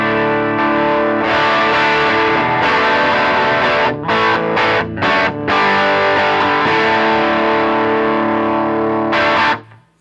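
Overdrive pedal on a Line 6 HX Stomp, amber setting at its lowest gain, colouring an electric guitar: thick, mildly driven chords ring steadily with a few quick stops and restarts midway, then cut off near the end, with no talking.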